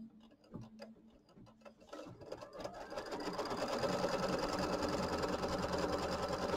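An embroidery machine tacking down a quilt block over batting starts with a few slow ticking stitches, then speeds into a steady, dense mechanical whir that holds to the end, close and moderately loud.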